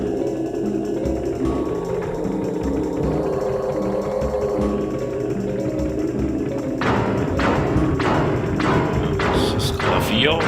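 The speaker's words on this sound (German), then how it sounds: "Das ist das Klavier, das ein bisschen rumspinnt" Haunted piano in Super Mario 64 thumping and banging about, a series of dull thuds and knocks with sharper crashes building toward the end, over game music.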